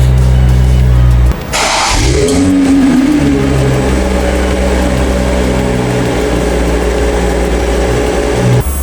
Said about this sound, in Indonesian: sekarang kita nyalain dari mesin mobil ini karena suaranya, cool start engine-nya itu mirip-mirip dengan BMW juga